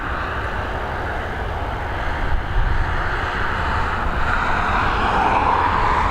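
Airliner engines at Dublin Airport spooling up for takeoff, a steady roar that swells gradually, with a faint rising whine near the end, fairly loud and heard from a distance.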